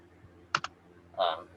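A pair of quick, close keyboard key clicks, followed a moment later by a brief vocal sound.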